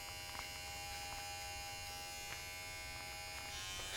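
Hair clippers with no guard attached and the taper lever open hum steadily at close range while fading a beard, a continuous electric buzz that holds even throughout and swells slightly at the end.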